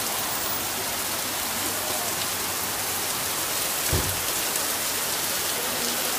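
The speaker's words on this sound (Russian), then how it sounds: "не могу выйти и снять эту улицу, потому что она вот в таком жутком ливневом потоке" Heavy rain pours down in Gurzuf, Crimea, a dense, steady roar of water hitting surfaces that stays close and constant throughout, with no voices.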